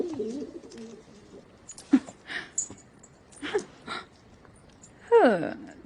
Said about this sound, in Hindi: संदेश पहुँचाने वाले पंछी